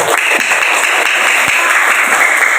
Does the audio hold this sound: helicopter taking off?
no